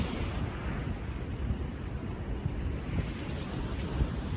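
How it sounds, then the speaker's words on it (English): Waves crash along the shore at Laguna Beach, a continuous rumbling roar mixed with gusty wind noise on the microphone, moderately loud and without any voices. "The crashing waves"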